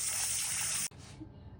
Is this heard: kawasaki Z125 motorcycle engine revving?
no